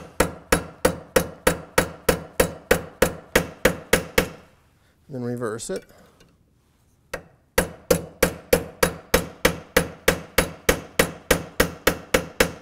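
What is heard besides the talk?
hammering metal cuff bracelet over a stake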